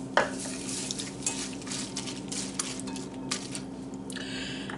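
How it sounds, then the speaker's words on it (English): Close stirring of a Pennsylvania Dutch scalloped corn casserole mixture with milk in a bowl: soft wet swishing with light clinks and taps of the utensil against the dish. No one talks. "Give that a good mix."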